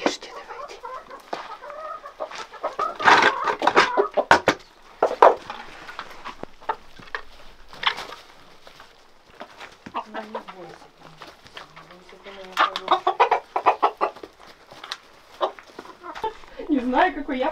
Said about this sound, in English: It's time to feed the chickens.